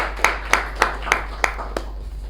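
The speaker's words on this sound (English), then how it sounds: "Give her a big round of applause" Six sharp, evenly spaced claps ring out in a small meeting room, sparse and moderately loud, fading after about two seconds.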